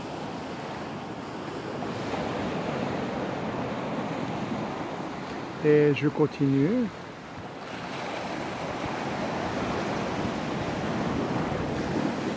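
Steady Indian Ocean surf and wind roar continuously on Réunion's west coast, with someone briefly speaking midway over the washing waves.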